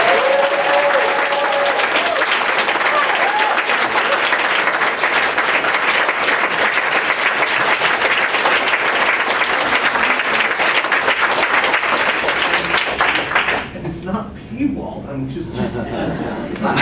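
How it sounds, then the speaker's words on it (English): Loud, sustained applause from a large audience at a talk fills the room, with a few cheers early on, tapering off near the end. "Let me hear a very warm round of applause for Gary Liu."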